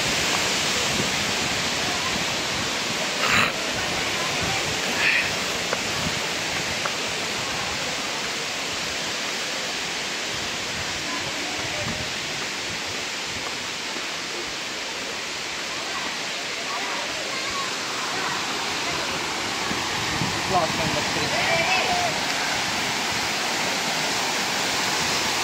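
Kothapalli waterfall near Paderu running with low summer flow, a continuous broad rush of falling water that holds steady throughout, with faint occasional voices in the background.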